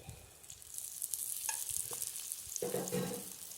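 Coconut oil crackles and sizzles steadily in a pan, with a few sharper pops and a brief stirring scrape near the end.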